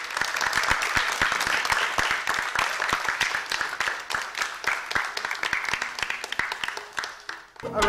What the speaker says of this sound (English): A round of applause for Miss Leel